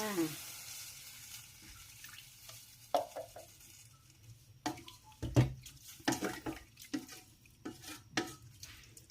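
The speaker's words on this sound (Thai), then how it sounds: "เนื้อเปลี่ยนสีแล้วค่ะ ใส่น้ำค่ะ" Water poured into a pot of browned beef for a Thai herb stew, a splashing pour with stirring and clinks of a utensil against the pot, close and moderately loud.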